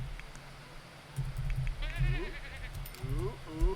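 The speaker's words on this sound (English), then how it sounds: "And then we're going to place the cream sheep." Cream sheep in The Sims 4 bleat in a few short wavering calls over a soft background hum, fairly near and moderately loud.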